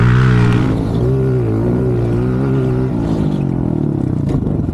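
A mini pit bike engine runs close by on a garden supercross track, a loud buzzing drone whose pitch rises and dips through gentle revs, then roughens as it settles, heard alone.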